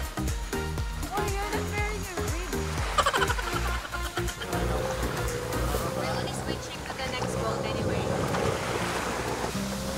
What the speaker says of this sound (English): we're gonna do some island hopping today, of course, on a speedboat